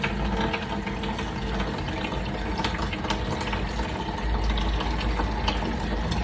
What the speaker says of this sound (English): And I'm running just clear water for this.